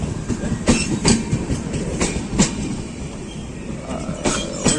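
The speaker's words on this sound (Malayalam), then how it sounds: "നമുക്കൊരു ട്രെയിൻ വന്നു." A train pulling into a station in Udupi, heard as a steady rolling rumble with rhythmic clickety-clack wheel beats and occasional sharper knocks, close and continuous with no talk over it.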